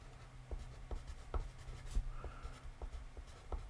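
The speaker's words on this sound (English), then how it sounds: "I'm going to write this in." Marker strokes writing on a board during a plan-view drafting lesson, a run of short scratchy strokes roughly every half second, close and fairly quiet with no talking over them.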